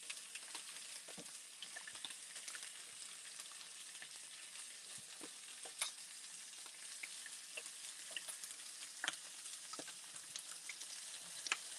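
Chicken sears in a hot pan, a soft steady sizzle with scattered sharp pops and crackles, fairly quiet and close, with no talking.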